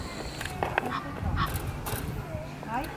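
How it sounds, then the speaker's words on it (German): Geese honk repeatedly in a noisy outdoor scene, several birds calling over one another with faint voices in the background. "Keine Enten. Und was? Gänse."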